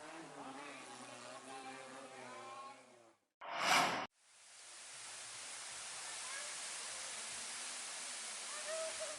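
Arjuna Putri Galuh waterfall, a nature spot in Banjar regency: a steady, broad rushing roar of falling water that fills the later part, preceded by a voice speaking and a short loud burst.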